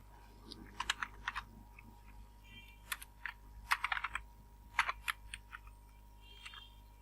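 A computer keyboard is typed on softly at moderate distance, quick clusters of light clicks separated by short pauses while text is entered for a political poster design.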